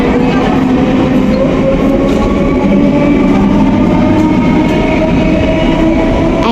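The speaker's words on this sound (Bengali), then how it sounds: "ট্রেনটা করে আমরা আসলাম" Local train ride out of Barrackpore: a steady, loud rumble of the carriage with rail clatter filling the whole stretch, no voices.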